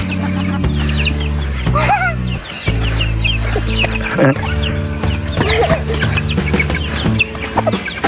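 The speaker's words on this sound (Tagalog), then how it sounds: "Ang dami na pong manok dito." Many chickens cluck and squawk nearby, overlapping calls over a loud steady low hum with occasional thumps and shuffling.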